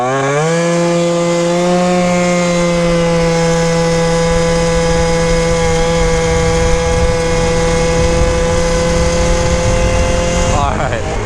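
A scooter engine fitted with a new exhaust pipe idles steadily after starting, giving a loud, sustained buzzing drone with a clear pitch that holds even before cutting off near the end.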